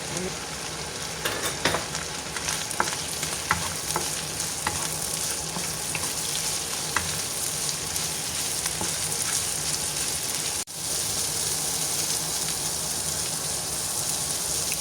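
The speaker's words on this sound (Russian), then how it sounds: "Теперь добавляю грибы." Mushrooms dropped into a pan of hot oil, setting off a loud, steady sizzle with scattered sharp pops and crackles, close and continuous, with a brief dip partway through and no talking.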